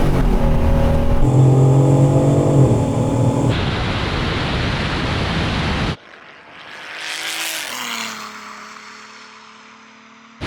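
A Toyota Supra and a BMW M3 launch in a drag race, with a loud close engine drone breaking into a roaring rush, then a cut to quiet before a car sweeps past rising and falling, and a final blast.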